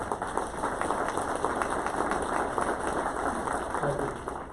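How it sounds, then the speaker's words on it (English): Steady crowd applause for the mayor and council at a city event, dense and continuous, with many hands clapping at once throughout and no break in the sound. "we ought to give a round of applause to mayor and council"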